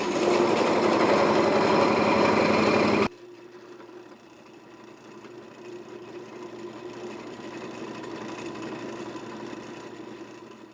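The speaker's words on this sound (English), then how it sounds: "drill the hole a little bit deeper in order for that shaft to fit up inside" Power drill boring a hole deeper in a part of a John Deere 4610 tractor's PTO valve assembly, a loud steady whine for about three seconds, then stopping and leaving a quieter, steady mechanical hum.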